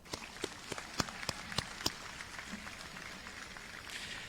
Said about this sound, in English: Let's give our students a round of applause